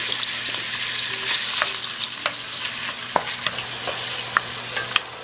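Beef and lamb frying in hot oil for an Irish stew, a steady close sizzle with occasional stirring clicks and scrapes of the pan throughout.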